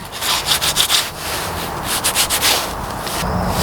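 Hardened plaster of Paris, still slightly soft, is sanded by hand in short, rapid scratchy strokes that come in two bursts, close and fairly loud, with no voices.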